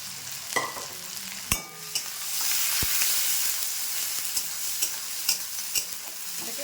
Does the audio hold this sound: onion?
yes